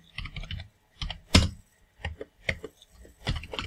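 Computer keyboard keys tapped in short irregular bursts, with brief pauses between them, close and clear, no voices.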